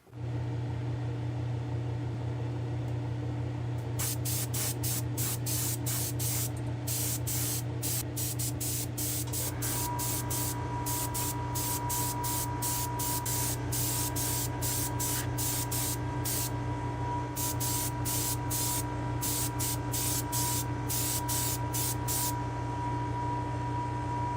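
Repeated sharp bursts of spray-gun hiss cut in and out over a loud, constant ventilation drone in a spray booth while painting a car part.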